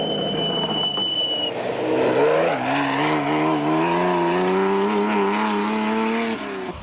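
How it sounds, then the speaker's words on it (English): Off-road rally vehicles racing in the 1991 Thaba Nchu Sun 500, including a Castrol Raceco and a Toyota Hilux, with a steady engine drone rising in pitch as a vehicle accelerates past, loud and close, no talk. "Still leading the vehicles were Bux Carolyn and Kenny Skolthammer in their Castrol Raceco"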